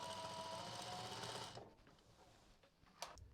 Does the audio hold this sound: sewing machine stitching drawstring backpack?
yes